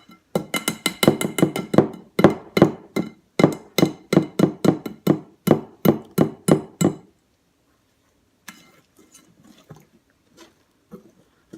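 A whisk beats batter in a bowl in a rapid run of about twenty sharp rhythmic clinks and taps, loud and close. Then it stops and only a few faint scattered knocks follow.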